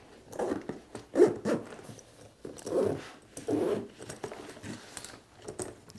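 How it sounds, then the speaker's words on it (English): A zipper drawn closed on a Lowepro ProTactic 450AW II camera backpack, heard as several short, soft rasping pulls in quick succession, fairly close and quiet, with no talking. "I'm going to zip this up."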